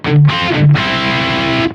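A heavily distorted electric guitar plays a short four-bar minor blues riff in A: two quick bent notes, then a sustained crunchy chord that rings out and cuts off.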